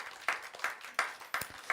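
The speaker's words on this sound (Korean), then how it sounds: "우리 수고한 우리 어머니 또 아버지 이렇게 되신 분들에게 격려의 박수" Congregation in a Sunday church service giving a short round of applause, with sparse, distinct claps arriving in irregular bursts from a modest group, fairly quiet and with no speech over them.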